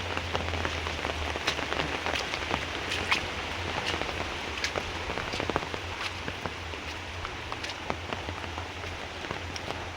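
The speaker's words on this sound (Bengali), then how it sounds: "প্রচুর বৃষ্টি পড়ছে" Heavy rain falls steadily onto surfaces, a dense, even patter with sharp individual drops ticking through it close by, no talking.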